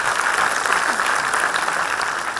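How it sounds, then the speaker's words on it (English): An indoor audience claps for Ms. Priyanka Deo at a student debate event on higher education in Pune, giving dense, even, sustained applause that fills the whole stretch at a fairly loud level, with no voice over it. "Can we have a big round of applause for Ms."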